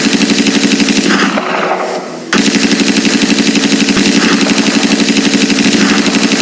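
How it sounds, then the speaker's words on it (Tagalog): A battle scene rings with loud, rapid gunfire in dense repeating bursts, broken by a brief pause around the middle before the firing resumes just as heavily. "Ang mga sundalo ay mapuputok ng kanyon."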